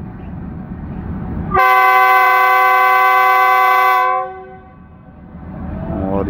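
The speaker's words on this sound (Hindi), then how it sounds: "और GU20 लोकोमोटिव का विसल" A GU20 locomotive sounds its whistle in one loud, sustained, piercing blast lasting about two and a half seconds, standing out sharply from a low rumble of background noise before and after.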